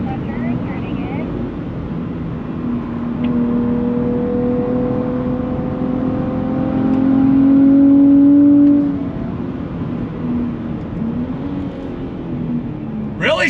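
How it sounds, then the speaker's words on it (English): A 2023 Nissan Z Performance with an automatic gearbox, engine humming steadily and swelling as it downshifts, with rising revs mid-clip before settling back, heard from inside the car with wind noise and no talking. "Really smooth downshifts though."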